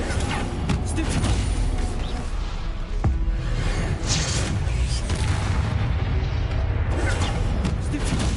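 Spell blasts boom and whoosh in the Hogwarts Legacy video game, a string of loud impacts and swishing bursts over constant battle noise, with one sharp crack near the middle.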